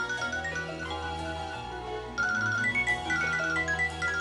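A mobile phone plays a bright melodic ringtone in a scene from a Telugu television serial; the tune loops continuously, growing louder and busier about halfway through.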